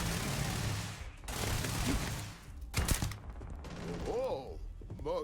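Gunfire in Starfield crackles in quick, dense bursts of automatic shots, loud and close, with a voice talking in between.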